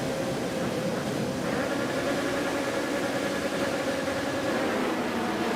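Yamaha R9 supersport motorcycles hold revs on the starting grid at Circuit of the Americas in Texas, a steady blended engine drone heard at a distance throughout, with no talk over it.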